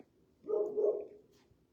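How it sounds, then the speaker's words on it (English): A dog gives a single drawn-out bark or yelp, close and moderately loud, with quiet surroundings before and after. "that's my dog. Why are you barking?"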